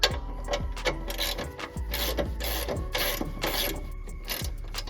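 A hand ratchet clicks in quick bursts while tightening a bolt on BC coilovers fitted to a Nissan 350Z, with close, rhythmic mechanical ticks and short pauses and no talking.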